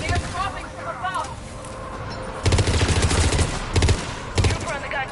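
Machine gun turret fire in the video game Mass Effect 3, loud rapid bursts arriving in several clusters after a quieter stretch of battle noise, set on the Quarian homeworld.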